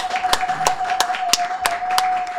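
A studio audience claps to welcome guest Chiche Gelblung onto a talk show, with brisk, evenly spaced sharp claps cutting through a steady tone and faint background voices.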